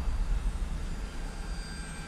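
An RC model airplane makes a high speed pass at half power, its engine a faint, steady distant whine rising and falling slightly over about two seconds.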